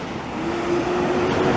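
A Hino truck with a loud motor rolls by on a city street in Montreal's Plateau Mont-Royal district, its engine rumble swelling steadily as it nears, heavy and close.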